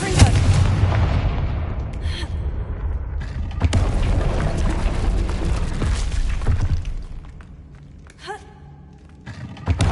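In the Hogwarts Legacy video game, a Confringo fire spell sets off loud booming blasts that hit again and again with rumbling debris. The noise thins toward the end before more sharp impacts come.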